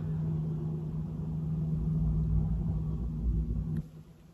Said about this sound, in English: there is like a snow plowing car outside making some noise